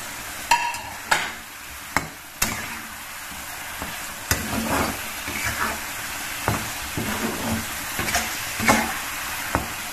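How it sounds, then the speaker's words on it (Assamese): Fried potato and fish pieces are stirred in a pan while making a cumin fish curry, with a spatula scraping and clacking in repeated close strokes over a soft sizzle. "এনেকৈ অকণমান লৰাই চৰাই দি"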